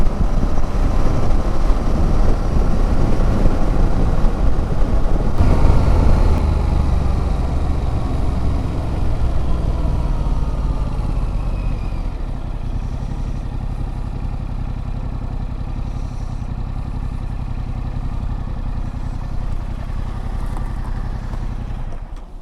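A motor scooter rides along on a long journey, its small engine buzzing loudly and close with a steady clattering drone that eases slightly partway through and carries on evenly.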